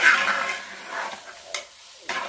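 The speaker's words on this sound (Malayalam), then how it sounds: "ഇതൊന്ന് നന്നായിട്ട് മിക്സ് ചെയ്ത്" Homemade lehyam cooked with ghee is stirred in a pan, with a few soft scraping strokes and a light sizzle heard up close, no voices present.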